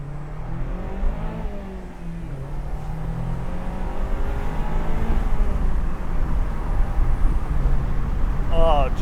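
A Mazda MX-5 Miata roadster accelerating through the gears, engine note rising in pitch, dropping at a shift and climbing again, with steady road and wind rumble underneath.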